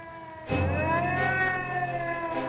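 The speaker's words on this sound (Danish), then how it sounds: "Hører de sirenen, bør de straks begive dem hurtigt, men roligt til nærmeste beskyttelsesrum" A Cold War civil defense air raid siren in Aarhus starts abruptly and holds a loud, steady wailing tone with layered harmonics, sounding alone without speech.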